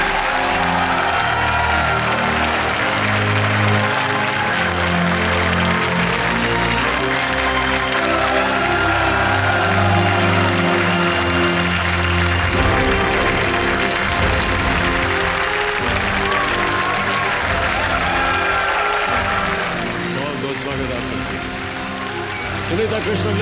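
A TV game-show studio audience applauds and cheers to welcome a guest, the clapping blending with loud, continuous stage music throughout.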